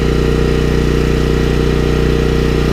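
A Champion dual fuel 7000-watt generator engine runs on propane, bogged down under a heavy load, giving a steady, loud, close droning hum that holds unbroken throughout with no voices.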